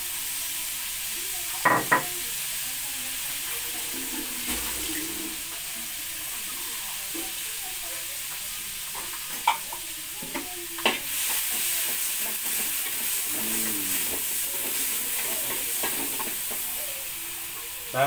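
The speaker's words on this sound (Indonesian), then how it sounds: "Bisa kita goreng" Balinese spice paste for jukut kakul frying in a pan, a continuous loud sizzle with occasional scrapes and stirs of a utensil throughout.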